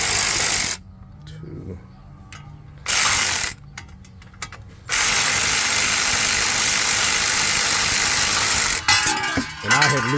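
A ratchet with a T30 bit works on brake bolts during a big brake upgrade on an MK5 GTI, producing bursts of rapid clicking separated by quieter pauses, close and fairly loud, with faint voice in the background.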